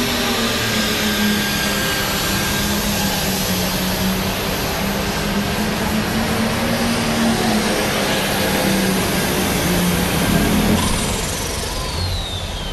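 Pro stock pulling tractor building up revs at a 1996 Louisville tractor pull, a loud sustained roaring engine drone with a slowly wavering pitch heard from a distance across the arena.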